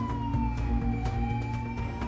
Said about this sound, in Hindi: पूरा इलाका सायरन की आवाजों से गूंज रहा है।